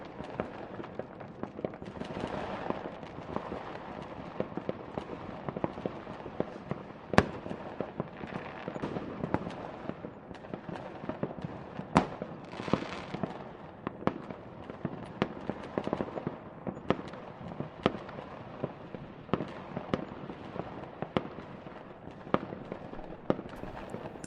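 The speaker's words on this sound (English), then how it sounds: "the 2 boys shout Happy Christmas and begin sending up fireworks" Christmas fireworks bursting in the sky, a long run of scattered cracks and pops at irregular intervals over a low crackling wash, fairly faint and distant throughout.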